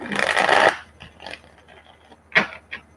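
A deck of tarot cards riffled during a live reading, one dense burst of fluttering card noise up close, then a few soft slides and two short crisp snaps of cards settling.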